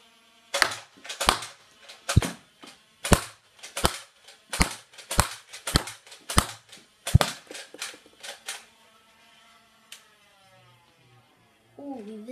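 A toy gun fires roughly a dozen sharp, snappy cracks in a quick, fairly even sequence, close and loud. Quiet follows, with a brief faint tone at the very end.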